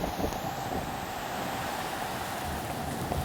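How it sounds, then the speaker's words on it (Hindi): Wind from a rainstorm rushing in a steady, dense roar with a rain-like hiss, heavy and continuous throughout, buffeting the microphone, with no voices. "ये बारिश का तूफान है"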